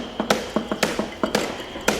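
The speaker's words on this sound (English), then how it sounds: "That's the sound of my hammer." A hammer strikes repeatedly in a loose, uneven rhythm, about nine sharp, close taps and knocks over two seconds, with no talking.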